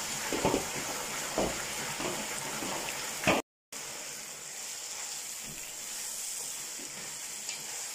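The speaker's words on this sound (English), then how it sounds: "Now we add in my tomatoes and the scotch pepper to it." Tomatoes and scotch pepper dropped into hot oil while cooking for Ivorian acheke: a steady, bright hiss of sizzling frying that runs throughout, with a few soft stirring thumps early on and a brief dropout midway.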